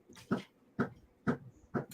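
A dog's tail thumps against a surface in four steady, evenly spaced beats about half a second apart, close and fairly loud, with no talking.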